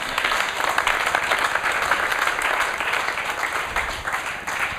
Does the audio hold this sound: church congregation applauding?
yes